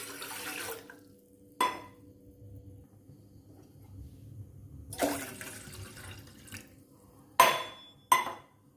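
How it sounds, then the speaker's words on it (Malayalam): Two cups of water poured into a tea pot for masala chai, in bursts of splashing at the start, mid-clip and near the end, with quiet gaps and light clinks between. "2 കപ്പ് വെള്ളം ചായപാത്രത്തിലേക്ക് ഒഴിച്ചു കൊടുക്കുക"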